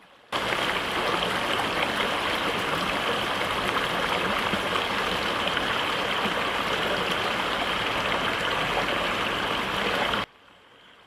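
Chalakudy river flowing at dusk, a steady, even rush of running water that holds at the same level for about ten seconds, with no voices, then stops abruptly.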